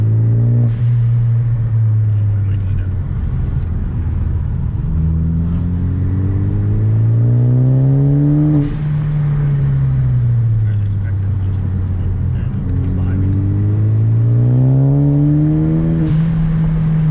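A manual Ford Focus ST with front-wheel drive, pulling away in first gear: a loud, close engine note climbs in pitch, drops at each shift and climbs again through repeated revving cycles, with cabin rumble underneath.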